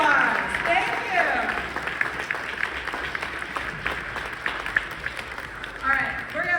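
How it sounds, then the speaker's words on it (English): Steady audience applause for guests at a brain-computer interface panel event, dense clapping throughout with brief overlapping voices and a host's voice at the start and end. "Give them a huge round of applause"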